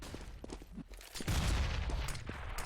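Bursts of M4 rifle fire in Counter-Strike crackle over a few seconds, a scatter of sharp shots building into a louder stretch of rapid gunfire, fairly close.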